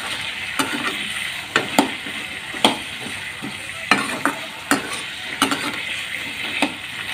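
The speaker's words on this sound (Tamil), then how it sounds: "நல்லா வதக்கிட்டு இருக்கலாம்." Chopped banana stem sautéed in a pan over a low flame, with a soft steady sizzle and repeated sharp scrapes of a spoon stirring against the pan, close up with no talking.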